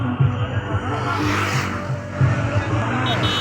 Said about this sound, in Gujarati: તો મિત્રો ટ્રેક્ટર ધીમે ધીમે આગળ વધી રહ્યું છે